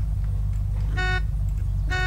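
Two short car horn honks in the video game Unturned sound about a second apart over a low, steady engine hum.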